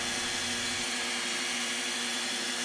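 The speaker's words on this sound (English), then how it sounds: "I'm starting to sand down the handle" A spinning lathe whirs steadily while an African blackwood handle is sanded, a smooth continuous abrasive hiss with a low motor hum that drops away about a second in.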